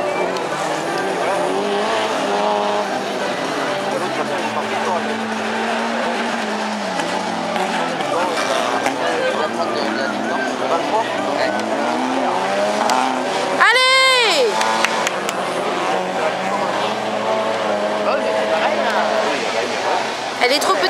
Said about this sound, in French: Allez, en tête, le doublé de Toyota MRS.